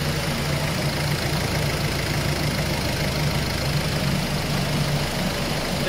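A Ford C-Max 1.6 TDCi diesel engine idles unevenly, a loud, steady close-up drone with a faint surging beat and no talking.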